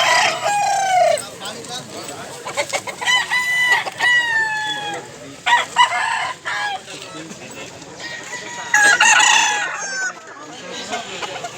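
Chickens and roosters at a market, several loud close crowing calls in quick succession with clucking between them, mixed with background market chatter.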